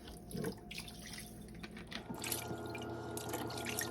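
Fish for Jamaican escovitch gets washed under running water in a kitchen sink, a close, steady splash and trickle with drips and some handling noise partway through, and no one speaking.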